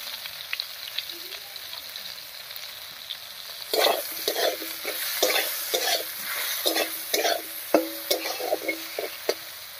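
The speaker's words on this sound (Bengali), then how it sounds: "বেগুনটা বেশ লাল লাল করে ভেজে নিয়েছি, এবার নামিয়ে নিচ্ছি।" Brinjal seasoned with a little salt and turmeric fries in oil, quiet at first, then a sudden loud sizzle followed by repeated rhythmic scraping and turning strokes up close, with no talk.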